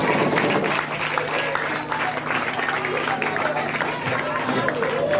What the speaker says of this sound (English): Please, let's keep clapping for our INEC chairman.